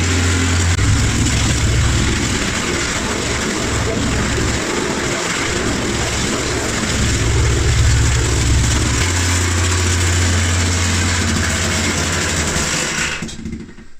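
An electric wacker plate compactor runs for a long stretch, giving a loud, steady mechanical drone with a pulsing low thump that rises and drops before cutting off at the end.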